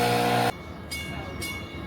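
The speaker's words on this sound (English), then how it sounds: "our train should be coming from that direction." A train arrives at a platform in Chicago, opening with a short loud horn blast and then settling into a low rolling rumble of wheels and cars.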